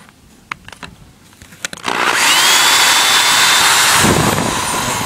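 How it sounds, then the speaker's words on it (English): Power drill pre-drilling screw holes through a pool fence gate for a self-closing magnetic latch, starting after a few light handling clicks and then whirring loudly and steadily for about three seconds, close up. "So what we'll do is we'll just pre-drill it with these."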